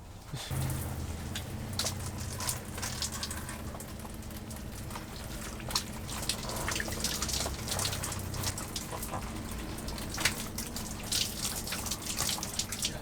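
Water runs steadily from an off-grid shower inside a converted school bus, a continuous close splashing hiss with small irregular spatters throughout and no talk.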